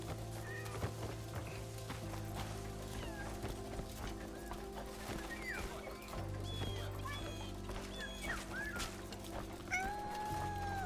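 A small cat meows several times in the early hours, thin and fairly faint, scattered over a steady low indoor hum.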